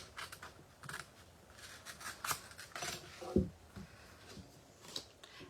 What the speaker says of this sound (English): And I'm going to cut on the angle